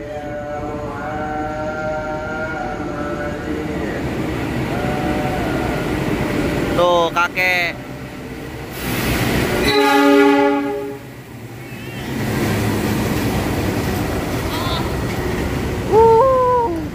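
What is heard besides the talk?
Lodaya passenger train passing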